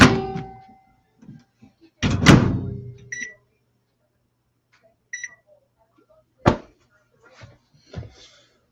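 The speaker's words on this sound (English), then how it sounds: "Oh, this fucking microwave." Microwave oven door thumping shut among scattered clicks and several short electronic beeps from the keypad, fairly close in a quiet kitchen, with a few words spoken before the clatter.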